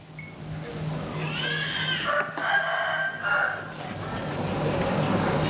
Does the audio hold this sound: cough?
no